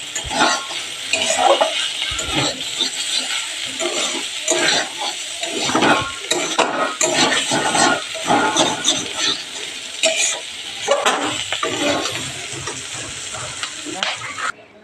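Potatoes frying and being stirred in a pan, a steady loud sizzle broken by repeated scraping stir strokes and light clinks of the utensil against the pan, with no voices.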